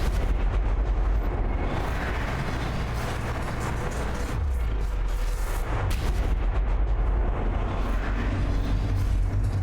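Explosions and heavy rumbling fill a sci-fi survival game scene, loud and continuous throughout, with deep low booms and a brief lull near the middle before the blasts swell again.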